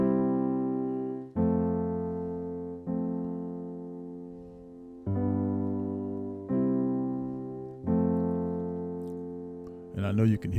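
A sequence of sustained keyboard chords changes about every second or two, each held and fading slightly, with a brief voice at the very end.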